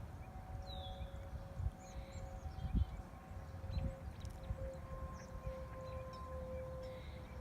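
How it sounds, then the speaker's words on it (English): Tornado sirens sounding during a test, a faint distant steady wail drifting in the background with occasional low thumps and rustles nearby. "The tornado sirens are going off."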